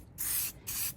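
A spray paint can sprays a wooden piece in two short, close hissing bursts with a brief gap between them.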